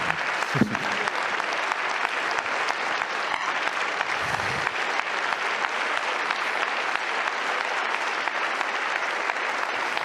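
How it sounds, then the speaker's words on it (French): Sustained, dense applause fills the French National Assembly chamber, a steady wash of many hands clapping at once with no letup and no talk over it. "Attention, il y a 30 secondes d'applaudissements."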